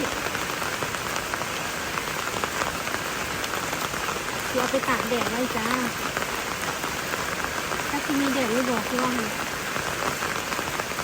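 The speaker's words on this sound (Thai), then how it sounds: "ฝนตกฝนตกพี่น้องเลย" Steady rain patters on a surface in a constant dense hiss, while a voice speaks briefly twice in the background, outdoors while vegetables are cut for drying.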